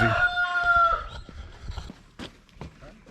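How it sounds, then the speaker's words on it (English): A rooster crows loudly at the start as chickens burst out of a coop in the morning, followed by scattered flapping, scuffling and soft clucks nearby. "Birds come flying out like crazy."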